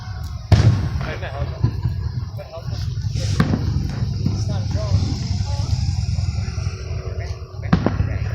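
Fireworks at the 2017 Fall River display boom over a loud, steady crowd, with a sharp burst near the start and scattered thumps later, under constant nearby chatter.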